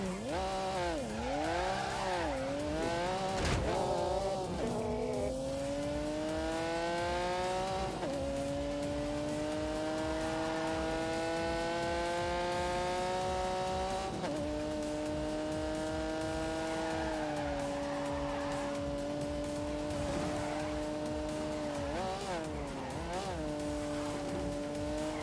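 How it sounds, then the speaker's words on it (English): A 5-litre V12 car engine in The Grand Tour racing game, revving high and holding steady through gear changes, rising and falling pitch as the car is driven hard, loud and continuous without talking. "When you unleash this 5-litre V12, it would do 180 miles an hour."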